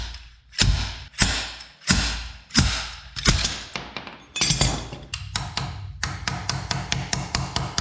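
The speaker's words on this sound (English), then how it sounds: "he's going to slide hammer it off." A slide hammer pulls a bushing from an Infiniti G35 VQ35DE engine: about six loud, heavy metallic blows at a slow, even pace, followed by a quicker run of lighter, sharp strikes, close up with no talking.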